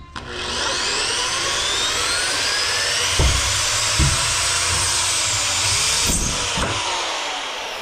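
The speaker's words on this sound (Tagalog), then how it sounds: "Tatakot ka sa barena?" A loud, continuous high-pitched whine of a power drill running steadily, with a few low knocks and thumps underneath.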